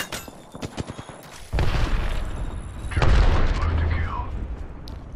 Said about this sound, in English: Grenade, watch out.